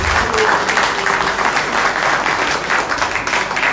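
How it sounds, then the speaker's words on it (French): A conference audience applauds in a loud, dense, sustained wash of clapping that holds steady throughout without any break. "J'aimerais qu'on applaudisse très très fort."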